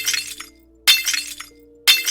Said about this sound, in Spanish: la figurilla de la bailarina estaba hecha añicos